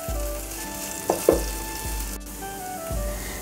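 Okra stir fry sizzles steadily in a pan at close range, with a couple of sharp utensil scrapes and light stirring knocks over the hiss.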